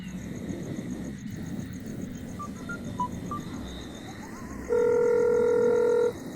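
A telephone is dialed: a few faint short button tones sound over a low background murmur, followed by a loud steady tone lasting over a second.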